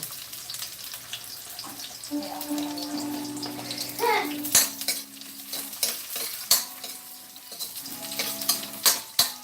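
Garlic fries over medium heat in a pan, with a soft sizzle under clinks and scrapes of a utensil against the pan, plus a brief tonal sound in the background.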